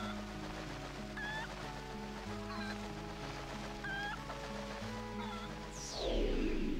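A cucco chicken clucks in The Legend of Zelda: Twilight Princess, several short repeated clucks at a steady rhythm over a constant background game ambience, followed by a louder whooshing swell at the end.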